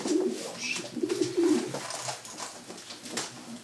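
Racing pigeons coo softly in a loft, giving repeated low throaty coos close by with faint rustling between them and no voices.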